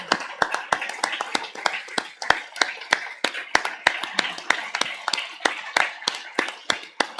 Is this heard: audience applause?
yes